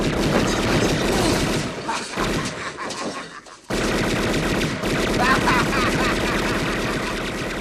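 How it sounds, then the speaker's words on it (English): Bursts of Tommy gun fire from the gangster film scene in Home Alone, loud rapid automatic volleys filling the clip, with a brief drop in the middle before the shooting resumes. "the Tommy gun shooting to scare away the pizza guy"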